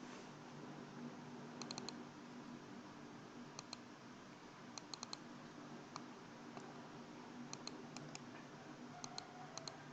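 Quiet, sparse clicks of keys being pressed on a computer keyboard, including the enter key, come in short clusters over a steady low hum, with no talking.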